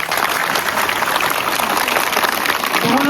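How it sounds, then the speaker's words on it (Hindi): Steady, dense applause from a school audience right after a speech, a continuous wash of hand claps holding at an even level for the full stretch, with no voice standing out above it. "तो जोरदार ताली एक बार।"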